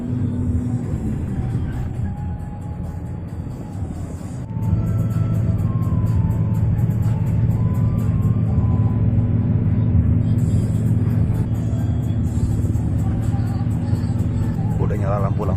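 A Primajasa intercity bus climbs a hill at speed, its engine a steady heavy rumble that grows louder partway through, heard from inside the cabin with faint background chatter.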